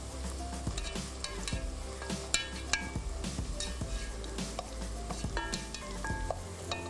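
Onions fry in a pot for chicken biryani with a dense, continuous sizzle and repeated scraping and clinking of a stirring spoon against the pan, close and busy throughout with no talking.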